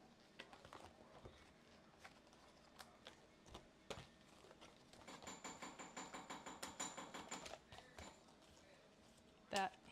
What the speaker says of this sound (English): That hammering is Nick over in the other room making jewelry.